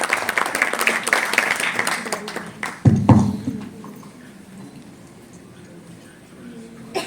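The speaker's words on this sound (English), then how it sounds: "Can you please invite him with a big round of applause today?" Audience applause welcoming a guest at the launch of a women's handball league in India, many hands clapping at once and then thinning out, with a sharp nearby thump and a voice over the clapping.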